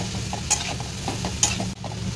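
Spices and eggplant are sautéed in a pan, a soft steady sizzle broken by a couple of brief scraping stirs, close and moderately loud with no talk.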